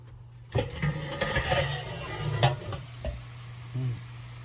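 Oysters sizzling on a hot grill, a steady close frying hiss broken by clinks and scraping of a utensil, with a low hum underneath.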